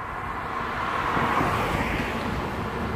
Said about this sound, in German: Also die Autos fahren hier an mir vorbei